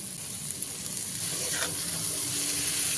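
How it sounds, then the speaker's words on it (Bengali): Chopped cabbage dropped into hot spiced oil in a pan for a vegetarian Bengali cabbage dish, giving a steady broadband sizzle that holds even and loud from start to finish, with no voices. "এবারে কেটে রাখা বাঁধাকপিগুলো দিয়ে দিলাম"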